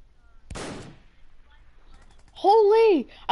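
A single loud gunshot burst rings out in a PS4 shooter game, followed by a quieter stretch and then a sharp rising-falling tonal whine, with a player's voice talking over the action.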